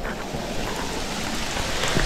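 Heavy rain pours down in a forest in Coorg, a dense, continuous hiss of drops on foliage and rock, steady and fairly close with no voices.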